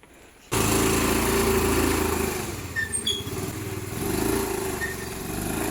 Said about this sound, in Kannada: ನೋಡಿ ನನ್ನ ಪ್ಲೆಷರ್ ಗಾಡಿ ಇದು.